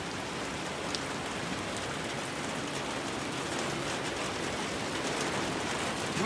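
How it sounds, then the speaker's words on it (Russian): Rain falling in a garden, a dense, even hiss of drops on leaves and surfaces that holds steady throughout with no voices. "Вот сад в дождь."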